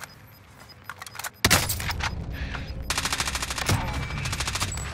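Rapid automatic gunfire in the shooter game Call of Duty: Modern Warfare, a single shot followed by loud bursts of machine-gun fire in quick repeated volleys, close and sharp.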